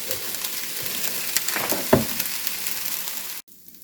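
Peppers and onions sizzle steadily in a pan, with a few brief scrapes and clicks of stirring partway through, close and moderately loud, before the sound cuts off sharply near the end.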